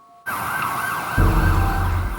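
Wailing emergency vehicle sirens sweep and warble at the scene after the London bombing attack, with a heavy low rumble of traffic and engines swelling underneath halfway through; loud and continuous, with no talking.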